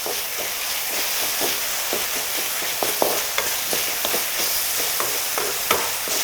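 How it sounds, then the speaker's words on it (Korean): Vegetables stir-fry with soy sauce in hot oil, a dense continuous sizzle broken by frequent sharp clicks and scrapes of tossing and stirring, close and unaccompanied by talk. "야채도 넣고 같이 볶아주세요."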